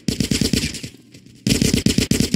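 Rapid automatic gunfire from a firefight in GTA San Andreas, loud and close, rattling in dense bursts with a short lull in the middle before the shooting resumes.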